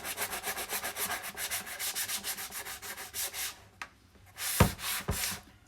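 A painted wooden cabinet door is distressed by rubbing its edges, giving rhythmic, close scraping strokes in steady back-and-forth pulses, followed by a pause and a few heavier rubs.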